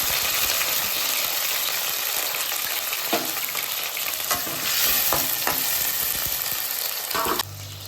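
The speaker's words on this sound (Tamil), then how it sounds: "நான் மூணு தக்காளி வந்து கட் பண்ணி வச்சுருந்தேன், அதை போடுறேன்" Chopped tomatoes sizzle and fry in a pan while being stirred, a close, steady crackle with scraping stir strokes and a few clinks, ending abruptly near the close.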